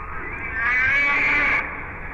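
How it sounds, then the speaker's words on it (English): A humpback whale song: one sustained, resonant moaning call that swells over about a second and then fades, heard clearly and alone. "We could hear the songs of the humpback whale."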